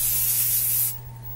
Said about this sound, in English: You're gonna have to wear some bug spray.